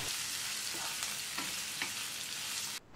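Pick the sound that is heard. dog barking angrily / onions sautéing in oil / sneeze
onions sautéing in oil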